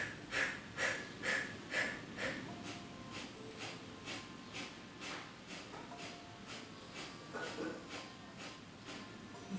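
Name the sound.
breath of fire, short rapid breathing exercise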